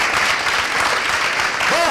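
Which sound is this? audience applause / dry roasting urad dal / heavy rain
audience applause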